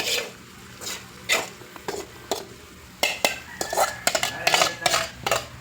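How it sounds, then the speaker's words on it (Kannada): A metal pot clanks and scrapes on a stove, with a run of sharp knocks and stirring scrapes close by, growing busier toward the end. "ಒಲೆ ಮೇಲೆ ಪಾತ್ರೆ ಇಕ್ಕಿದ್ದು"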